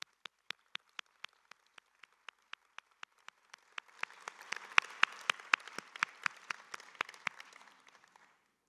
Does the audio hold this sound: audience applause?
yes